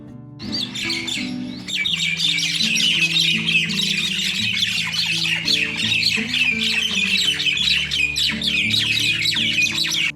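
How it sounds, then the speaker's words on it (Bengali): Four common myna birds squawk and quarrel close by, a dense, continuous chorus of harsh, overlapping chattering calls that barely pauses, loud and without speech. "এইদিকে চারটে শালিক পাখি সেই পরিমাণে ঝগড়াঝাটি করছে দাঁড়ান আপনাদের ওদের ঝগড়াটা একটু শোনাই"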